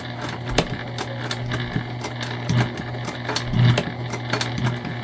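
A sewing machine stitching back over a bulky section of a fabric gift bag, a steady close mechanical whir with rapid needle ticks and a few heavier thumps as the fabric thickens.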